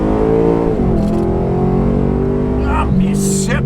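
A cammed 2013 Holden VF SSV Commodore V8 accelerates hard, its engine note climbing loud and close and dropping at gear changes, with voices heard alongside.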